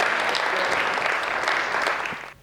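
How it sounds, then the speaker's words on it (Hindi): Audience clapping for a comedic poet at a Hindi poetry gathering, a brief dense burst of applause that holds steady, then tapers off at the end. "आप सबकी जोरदार ताली होनी चाहिए"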